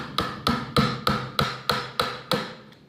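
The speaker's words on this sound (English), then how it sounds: "we're gonna chisel down a little bit" A chisel is struck into wood to cut a recess for a workbench leg, eight sharp evenly spaced mallet blows close up, each ringing briefly before the next.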